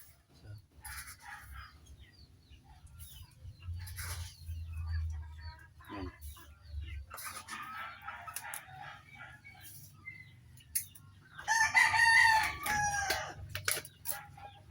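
Chickens cluck and a rooster crows at a farm during feeding time with pellets, the clucking scattered throughout and a loud crow standing out near the end over faint background noise.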